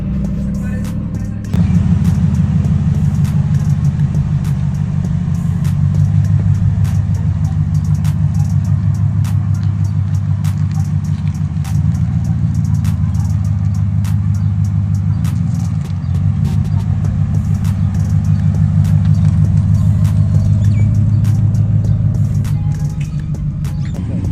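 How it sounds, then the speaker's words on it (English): A lowered Ford F150 pickup sits idling at a truck meet drop, its engine giving a loud, steady low rumble that holds throughout with slight rhythmic pulsing and no talking. "here's a clip of the truck currently sitting at the 411 drop"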